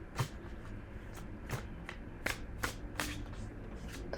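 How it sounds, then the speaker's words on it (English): Oracle cards from the Sacred Self Oracle deck are shuffled and pulled by hand, a close, soft papery riffling with several brisk slaps and flicks in a quiet room. "Let's pull some cards from the Sacred Self Oracle"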